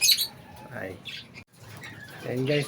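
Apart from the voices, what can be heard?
pet lovebirds chirping at feeding time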